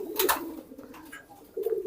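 A newly acquired pigeon gives its giring courtship coo up close, a low throaty call repeated in short pulses, with a brief rustle between the coos.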